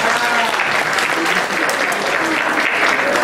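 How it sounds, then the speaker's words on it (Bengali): At a Bengali New Year celebration in New York, a large audience claps loudly and continuously, a dense, even wash of applause with no pauses. "একটু করতালি দেবেন"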